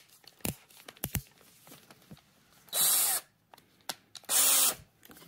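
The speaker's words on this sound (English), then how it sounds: "chuck it into your drill" A power drill spinning a hook chucked into it whirs in two short, loud bursts of about half a second each, separated by clicks and handling noises in a workshop.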